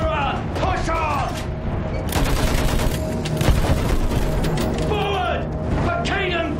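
Battlefield 1 on Xbox One, prologue Break of Dawn: sustained machine gun fire pours out over trench combat, dense and loud with booms and mechanical clatter, while voices shout over it.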